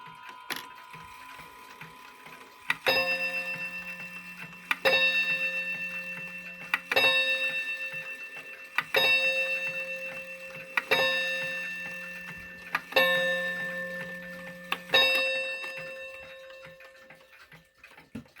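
A Parliament wall clock with a 31-day Daijin movement sounds loud rhythmic chime strikes on a metal rod roughly every two seconds, each ringing out and decaying over soft mechanical ticking.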